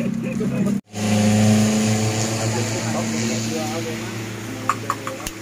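A motorcycle engine drones steadily while riding, loud and close, with a brief dropout near the start, then continuous running with rushing wind noise and voices talking over it.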